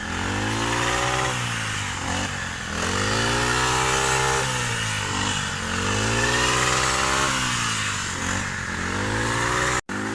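A brush cutter's small engine drones continuously while cutting rice, its pitch rising and falling in repeated surges as it works through the crop, with no talking.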